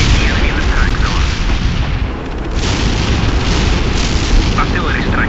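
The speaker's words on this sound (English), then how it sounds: "Artillery strike on the way." Continuous rumbling booms of an artillery strike in the World in Conflict: Soviet Assault video game, loud and dense, with blasts blending into a heavy, sustained roar.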